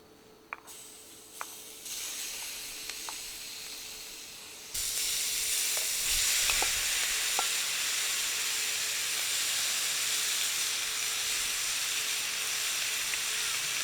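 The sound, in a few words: meat sizzling while cooking on a hot rock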